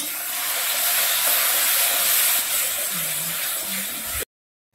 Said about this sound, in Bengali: এবার আমি এই যে পেস্টটা বানিয়েছি টমেটো আর রসুনের, ওটা দিয়ে দিচ্ছি